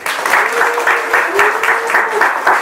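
Audience applause at a year-end church gathering, a dense, steady wash of many hands clapping close by throughout, with faint voices mixed in.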